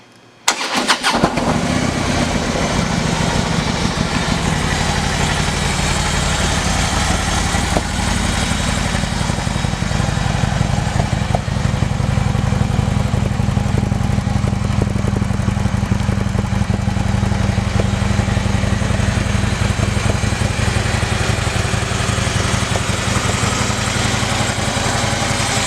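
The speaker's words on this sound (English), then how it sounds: "let's listen to that exhaust" A 2015 Harley-Davidson Street Glide Special with a Screaming Eagle exhaust and low mileage idles steadily after a brief start, a loud, continuous low rumble heard up close with no talking.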